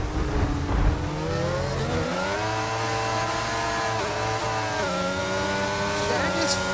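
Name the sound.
Formula 1 race cars in a racing video game at Monza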